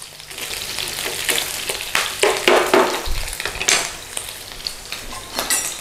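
Bacon frying in a pan on the stove, cooked off for a slow-cooker coq au vin: a steady sizzle with clinks and scrapes of stirring and one dull low knock midway, with no talk.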